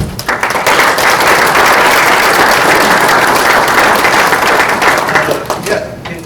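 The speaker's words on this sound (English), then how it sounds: "let's give a round of applause for Ben." Conference attendees give a keynote speaker a round of applause, loud and dense clapping that rises quickly, holds steady for several seconds, then fades out.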